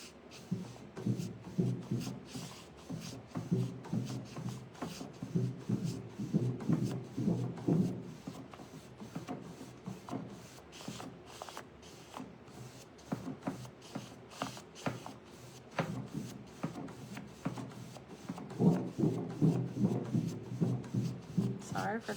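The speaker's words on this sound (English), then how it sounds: "Sorry for the tin noise" Metal tin being rubbed and handled on a craft table during decoupage work, a continuous scraping, crinkly rustle with frequent small clicks and taps, close and moderately quiet throughout.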